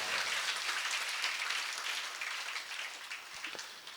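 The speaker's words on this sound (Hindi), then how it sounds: "पुनः सब एक दूसरे के लिए तालियों की गड़गड़ाहट करें।" Faint, steady audience applause at a spiritual satsang gathering, a continuous wash of many hands clapping at a distance that gently fades toward the end, with no speech over it.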